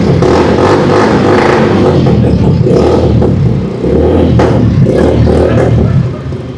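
A heavy cruiser motorcycle engine revs loudly up close in a sound check, with dense rumbling blips and clattering mechanical noise that ease off near the end.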